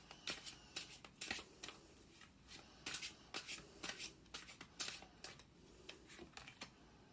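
Tarot cards being shuffled and drawn, a quiet, close series of crisp papery riffles and flicks in irregular bursts, with no voices.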